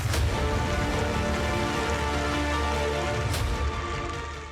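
Heavy rain pours in Almora, Uttarakhand, a dense, constant hiss of drops hitting surfaces, loud and steady throughout with no voices.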